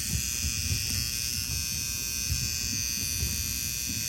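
A tape head demagnetizer buzzes steadily and loudly as it is moved slowly in small circles over the heads of a tape machine, making a constant electric hum with a rough low rattle.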